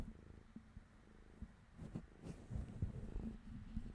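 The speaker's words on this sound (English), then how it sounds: "if you can hear that cat." Close-up cat purring right beside a microphone, a low steady rumble in rhythmic pulses that swells as the cat rubs against it, quiet and continuous with no talking.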